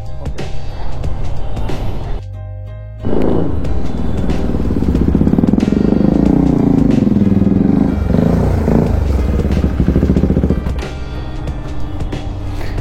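A motorcycle just back from servicing starts up after a brief pause, then runs loud and close with a rough, clattering engine note that settles slightly toward the end.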